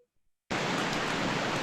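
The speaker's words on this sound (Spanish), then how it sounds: "Sí, es la lluvia." Steady rain pours down as a dense, even hiss that starts abruptly after a brief near-silent moment and continues loud and unbroken to the end.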